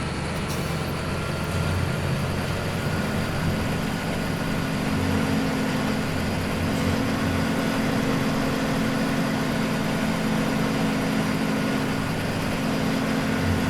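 A tractor engine in Farming Simulator 17 runs at a steady low drone with no pauses, loud and continuous throughout, with no talking.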